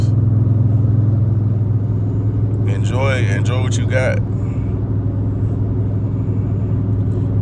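A Dodge Charger SRT8 cruising on the highway gives a steady, deep engine drone that runs the whole time, under someone talking.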